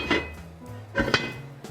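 A lid set onto a cooking pot of risotto: a couple of close metallic clanks and scrapes, one early and a louder pair near the middle, with quieter handling noise between.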